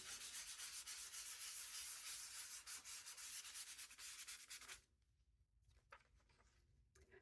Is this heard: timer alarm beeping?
no